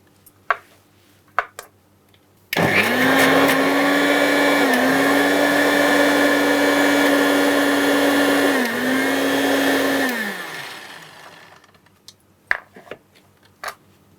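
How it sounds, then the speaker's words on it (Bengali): A kitchen mixer grinder blends a thick paste of ridge gourd and green banana peel with no water added, a loud steady whirring motor running for about eight seconds, dipping briefly in pitch twice before winding down, with clicks before and after. "তুমি ততক্ষণ মিক্সিতে ওটা পেস্ট করো"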